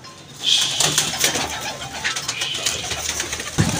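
Pigeons coo close by in repeated throaty bursts, with a few sharper chirps and a brief rustle near the end, fairly loud and with no talking.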